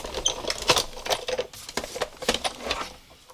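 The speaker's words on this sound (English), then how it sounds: "we're going to just emboss the rest of these while we're here" An embossing machine cranking vellum through a folder sandwich for card making, giving a rapid, irregular clatter of clicks and rattles, close and moderately loud, fading toward the end.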